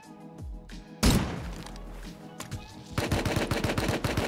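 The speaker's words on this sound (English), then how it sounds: "Getting shot in the back." Gunfire in the survival video game Rust: a sharp close shot, then rapid bursts of automatic fire close by, with one louder impact in the middle, and no talking.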